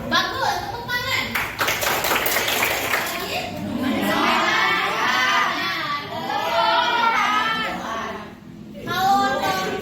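A class of schoolchildren claps in a short burst, then shouting and children's voices take over, with an adult teacher speaking amid the noisy classroom chatter.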